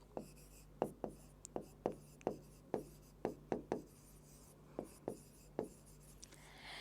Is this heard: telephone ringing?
no